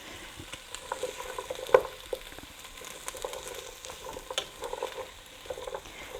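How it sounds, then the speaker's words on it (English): Carrots and zucchini sautéing in a pan for minestrone soup, a moderate steady sizzle broken by frequent light scrapes and stirring taps, close by and without voices. "Carrots and zucchini, and I'm going to saute these vegetables for about 5 minutes"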